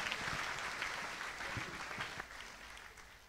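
Applause from a church congregation, dense and steady for about three seconds, then thinning slightly toward the end.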